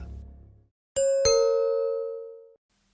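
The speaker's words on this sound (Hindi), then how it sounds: "उसी वक्त दरवाजे की घंटी बजी" Two bright doorbell chimes, a ding-dong struck close together, the second tone ringing out and fading over about a second after a brief low rumble.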